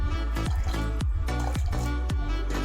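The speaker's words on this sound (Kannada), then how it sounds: "ನೋಡಿ ಸೇಮ್ ಇದೇ ಪ್ರೊಸೀಜರಲ್ಲಿ ಈ ಥರ ಕಡಿತಾ ಇದ್ರೆ ಬೆಣ್ಣೆ ಸಪ್ರೇಟು ಹಾಲು ಸಪ್ರೇಟ್ ಆಗುತ್ತೆ" Cream mixed with lukewarm water is churned by hand to separate butter for homemade ghee, making wet squelching, sloshing strokes in a steady rhythm about twice a second, close and fairly quiet.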